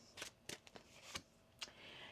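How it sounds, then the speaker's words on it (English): Tarot card deck being shuffled by hand, a few quick crisp riffling bursts separated by short pauses, close and fairly quiet, no talking. "One more shuffle."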